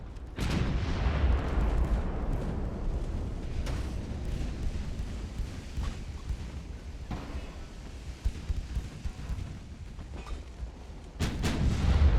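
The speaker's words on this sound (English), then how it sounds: "Oh, that was a good explosion." Naval gunfire and shell explosions from the warship battle game Ultimate Admiral: Dreadnoughts, with a sharp blast near the start, a rumbling barrage throughout and a second heavy boom near the end.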